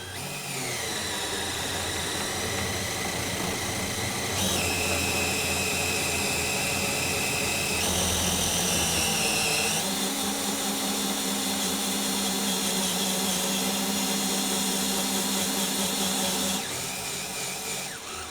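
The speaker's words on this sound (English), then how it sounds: "now going to cut the section of pipe within the valve using your 18-volt drill and the socket" An 18-volt drill fitted with a socket drives a cutter through pipe inside an isolator valve, making a loud, continuous high whine that shifts pitch in steps as the load changes, with no voices.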